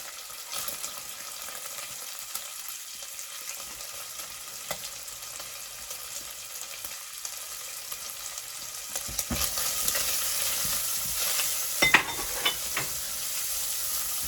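Bacon and onions fry in a pan while being stirred, giving a steady soft sizzle that grows louder and busier in the second half, with occasional scraping stirs.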